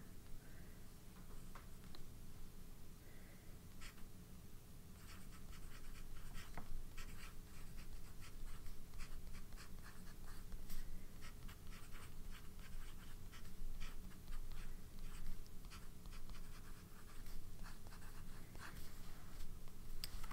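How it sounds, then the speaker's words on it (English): A broad-nib fountain pen loaded with Lamy Dark Lilac ink scratches steadily across paper for about twenty seconds, with soft irregular strokes and small ticks over a constant low hum, close and faint, with no voices. "This pen writes really wetly and it's taking a lot of ink onto the paper."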